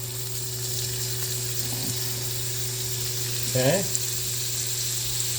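Butter sizzles in a hot pan after meat has been cooking, giving a steady, close hiss over a low hum, with one brief spoken word.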